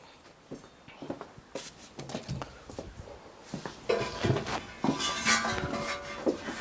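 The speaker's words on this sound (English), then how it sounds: "So you just have to remove that grate" Metal grate lifted off a Louisiana Grills Founders Legacy pellet grill, a series of scattered clanks, scrapes and rattles of metal, growing louder and busier toward the end, with no voices.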